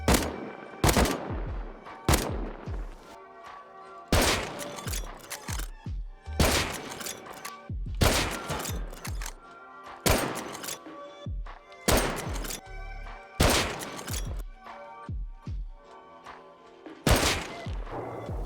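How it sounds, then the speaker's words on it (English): AK rifle fire in the survival game Rust, delivered in loud separate bursts of several sharp rapid shots each, roughly a dozen volleys spaced a second or two apart with short silences between. "AK."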